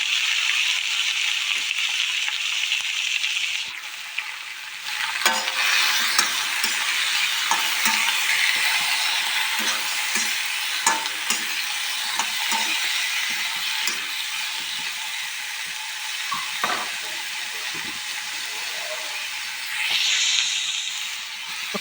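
Kohlrabi and cut potatoes frying in a pan with ginger, garlic and chili, a close steady sizzle broken by repeated scraping and stirring knocks of a spatula, with no talking.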